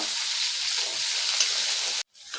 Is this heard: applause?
no